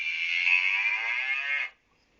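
A single recorded cow moo plays as one steady, sustained, fairly loud call lasting under two seconds, then cuts off abruptly into silence.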